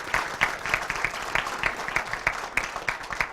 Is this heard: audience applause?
yes